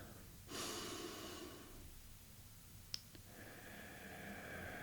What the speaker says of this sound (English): Breathing in nice and deeply through the nose.